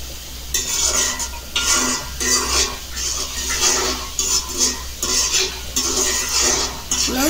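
Polao rice with cardamom and cinnamon is stirred in a pot, a spoon scraping and clattering in repeated strokes over a low sizzle, close and fairly loud, with no talking.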